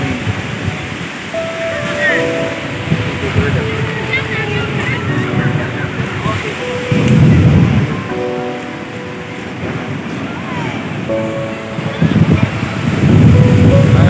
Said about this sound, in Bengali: বাতাসটা ফুরফুরে হাওয়া।